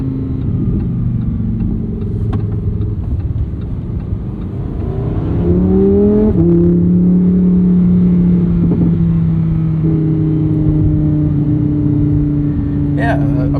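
Inside a 2023 Lamborghini Huracán Sterrato on a canyon and highway drive, the engine drones steadily, then rises in pitch as revs climb and the exhaust flap opens, settling into a loud, sustained, buzzy roar with rumbling road noise underneath.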